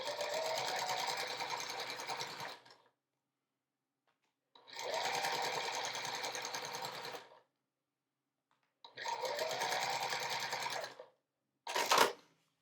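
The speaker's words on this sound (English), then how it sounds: "then I would sew across, making sure everything's lined up nicely" A sewing machine stitches across pinned quilt strips in three steady runs of about three seconds each, separated by pauses, followed by a short final burst. It sounds close and clear, with no voice.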